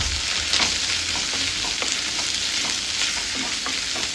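Onions sautéing on a high flame in a wok for restaurant-style veg chowmein, a steady close sizzle with scraping stir strokes and no voices.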